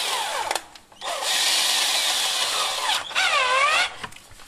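A power drill with a 3 mm bit bores out the rivet of a socket base, a loud, sustained high whine in two bursts with a squealing pitch rise and fall, separated by brief pauses.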